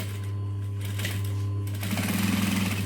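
A sewing machine stitching a fabric diamond pouch, a steady mechanical whir over a constant low motor hum that picks up into a faster rhythmic stitching patter near the end, close and loud.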